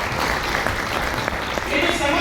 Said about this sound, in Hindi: अगर सही है तो एक बार ताली होनी चाहिए।